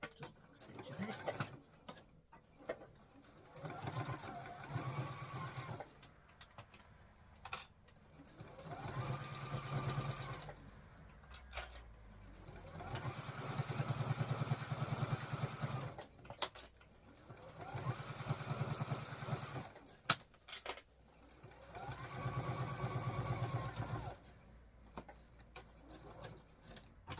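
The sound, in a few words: sewing machine back stitching vinyl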